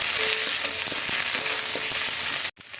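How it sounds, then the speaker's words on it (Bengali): Onion with garlic paste and ginger paste sizzles steadily in a pan, with spatula stirring clicks over the continuous frying hiss, ending in a brief cut near the close; no one talks. "ভালো করে নাড়িয়ে নিই, মশলাটাকে ভেজে নেবো কাঁচা গন্ধটা যাওয়া পর্যন্ত।"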